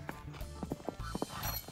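A mare's hooves clip-clop during a horseback ring race, giving a series of quick, uneven thuds close by over a noisy outdoor background.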